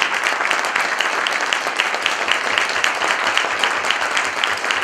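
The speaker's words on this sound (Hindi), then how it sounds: "मैं बहुत जोरदार तालियां चाहूंगा मेरे स्वर्गीय दादा श्री पुन्नू राम जी के लिए" Dense, steady applause from a large audience at a Hindi motivational talk fills the whole stretch, loud and continuous with many overlapping claps and no pause.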